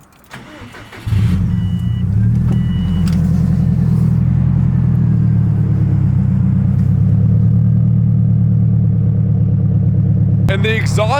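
A Subaru STI with an aftermarket wastegate, Cobb catted high-flow downpipe and Goretti catback exhaust starts up, then settles into a loud, close, steady rumbling idle with a faint whistle above it, and a brief rev burst near the end.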